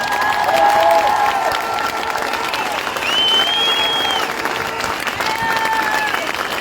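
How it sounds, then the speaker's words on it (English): A crowd of campaigners at an outdoor protest breaks into loud, sustained clapping, with scattered cheers and whistles rising over the continuous patter and voices mixed in. "a massive round of applause for every single one of you"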